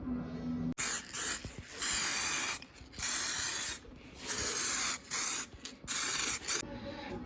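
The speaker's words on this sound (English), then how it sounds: "Just pressing the bearing out of the cush drive. These hydraulic presses are just the best thing." A hydraulic press forces a bearing out of the cush drive of a 1990 Kawasaki ZXR750, a loud close hissing, grinding rush coming in several separate bursts with short pauses between.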